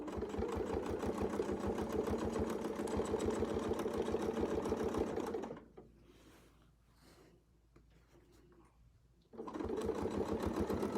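A sewing machine quilts small circle designs with a Westalee template, running at a steady, rapid stitch for several seconds, pausing briefly amid quiet handling sounds, then resuming at the same pace.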